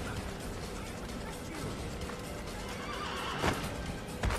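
A horse neighs and whinnies over a steady, dense Assassin's Creed soundscape, with louder bursts near the end and hooves clopping faintly underneath.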